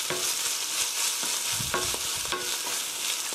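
Quesadilla filling seasoned with black pepper being stir-fried in a pan, a continuous loud sizzle with repeated scraping stirs close by, no voices.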